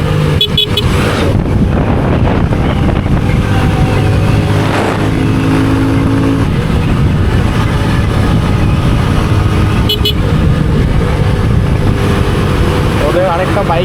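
Motorbikes race on an open road, heard from a rider's own bike: a loud, continuous engine drone with heavy wind rumble and occasional rises in revs, with a voice talking over it.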